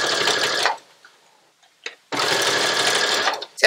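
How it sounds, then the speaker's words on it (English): A sewing machine runs a straight stitch on swimsuit fabric for a high-waist ring bikini, in two steady whirring bursts separated by a short pause with faint handling noises. "I switched my settings back over to a straight stitch, and now I'll begin sewing."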